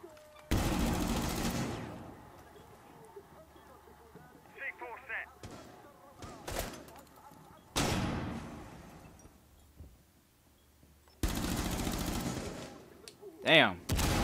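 Loud bursts of automatic gunfire from a Rainbow Six match come in several long volleys separated by quieter gaps, with a few short single shots, and a voice talks between the bursts.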